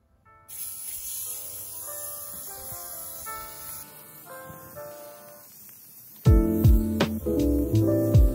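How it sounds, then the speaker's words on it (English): Gorilla spray adhesive hisses steadily from the can onto the backing of a punch-needle rug for about three seconds, close and moderately loud beneath background music that swells and grows louder toward the end. "you're going to spray the back of your rug and the face side down of the felt"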